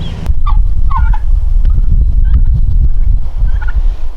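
A busy flock of chickens and roosters clucks and calls, with a few sharper calls standing out over a constant noisy farmyard background.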